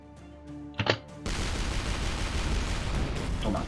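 Rapid-fire tank shots in the game Shellshock Live: a quick pair of sharp blasts, then a loud, dense continuous barrage of gunfire-like bursts that keeps going without a break to the end.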